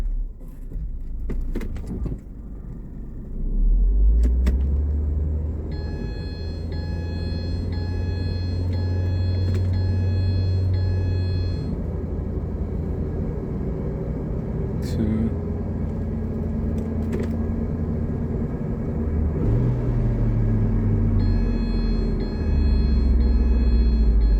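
A Ford Transit van with a fault of missing third and fourth gears drives with its engine revving up and falling in long swells under a steady low road rumble, while someone talks at intervals.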